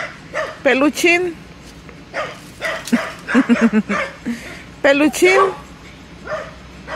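A dog yips, whimpers and barks in short excited bursts close by, mixed in with someone talking affectionately to it.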